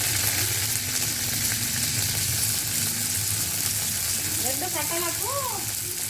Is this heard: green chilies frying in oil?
yes